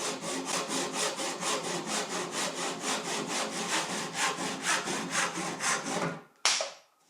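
A hand saw cuts wooden door frame trim at a 45-degree angle, about twenty-five even rhythmic back-and-forth strokes close up, ending with a pause and one final stroke.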